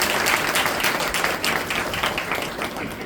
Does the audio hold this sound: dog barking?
no